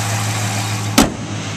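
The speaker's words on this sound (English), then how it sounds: "This Challenger sounds great and it runs very smooth." A 2010 Dodge Challenger R/T with a six-speed manual idles smoothly with a steady, low engine hum, broken near the end by one short, sharp knock before the idle settles again.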